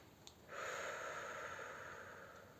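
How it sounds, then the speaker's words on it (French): A single slow, deep inhalation during a calm breathing exercise, a soft airy rush that holds steady for about two seconds in a quiet room. "faites 3 bonnes respirations"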